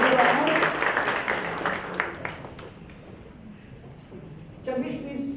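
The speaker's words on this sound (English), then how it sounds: "Please give a big round of applause to Jagdish." An audience at a corporate event claps loudly at first, then the clapping fades to a thinner patter with a rise again near the end.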